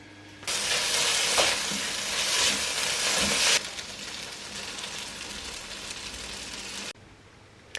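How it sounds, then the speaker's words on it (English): Stir fry sizzling in a pot, a loud hissing crackle that starts abruptly, then drops to a softer sizzle before fading out. "So I have dumped my stir fry into the pot"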